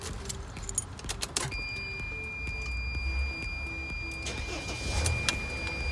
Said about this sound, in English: Let's grab a key, start the truck.